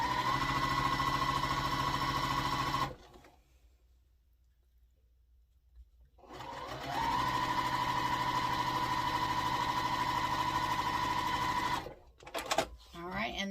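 A sewing machine stitches a quilt block for a sampler quilt, humming loudly and steadily in two long runs separated by a short silent pause, with some handling noise at the end.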